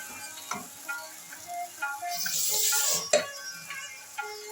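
A spoon scrapes and clinks against a pan while yogurt is stirred into doi begun, a Bengali eggplant dish, with a soft sizzle rising midway and a sharper metal tap near the end.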